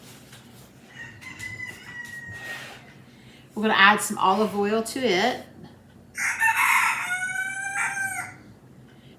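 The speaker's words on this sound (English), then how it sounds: "Sounds like the chickens are coming up for their treat." Chickens cluck and a rooster crows in bursts from an open door off a kitchen, fairly near and loud, between and over a person talking while cooking.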